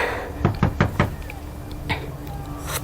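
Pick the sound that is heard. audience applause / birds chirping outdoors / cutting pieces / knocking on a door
knocking on a door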